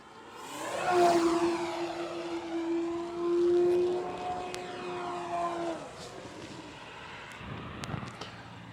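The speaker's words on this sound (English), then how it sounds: "Using the rudder predominantly to point the aircraft down the runway this time." A Hangar 9 P-47 Thunderbolt RC model airplane, 58-inch wingspan, with its engine droning steadily in flight, a sustained whine that swells and fades with the pass at moderate distance, wind noise around it, no talk.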